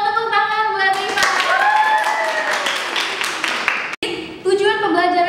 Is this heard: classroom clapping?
yes